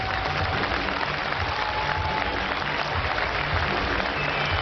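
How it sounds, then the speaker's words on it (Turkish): Steady applause from a large crowd at a boxing night in Finland after the first round, a dense continuous patter of clapping with no pauses, heard at moderate distance. "İlk roundda alkış topluyor karşılaşma"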